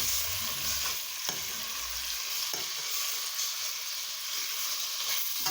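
Chicken browns in a pot for Jamaican chicken soup, giving a continuous hissing sizzle with a few scraping stirs early on, close and steady throughout.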